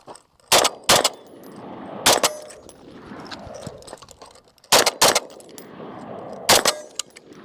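An original Armalite AR-180 rifle fires sharp, loud single shots in uneven pairs and singles at a shooting range, each crack distinct against a quiet outdoor background.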